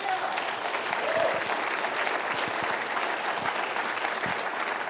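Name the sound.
audience applause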